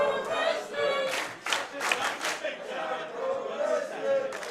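A video game wrestling crowd cheers and roars in a steady, dense wash of noise with rising swells, moderately loud and continuous throughout.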